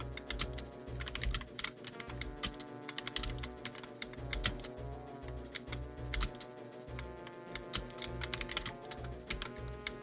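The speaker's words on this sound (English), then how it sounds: "Fumbling at my keyboard right now." Steady typing on a computer keyboard, with continuous clicking keystrokes in irregular bursts over background music, close and moderately loud throughout.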